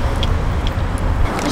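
Interior of a moving car in Al Awali, with steady low road and engine rumble filling the cabin and small faint rattles, no talking.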